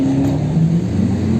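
A Porsche 944 Turbo Cup race car at a classic car track day at Magny-Cours, its engine droning loud and close in a brief, steady rev with a slight rise in pitch.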